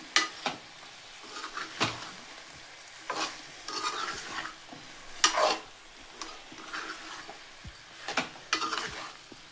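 A spoon stirs chicken curry in a pan over the heat, with irregular scraping strokes and clinks against the metal over a soft constant sizzle, close and fairly quiet, with no one talking.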